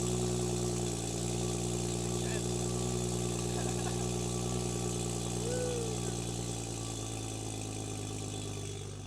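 A tuned car's exhaust idles loudly and steadily with a deep, continuous rumble throughout, while people talk nearby.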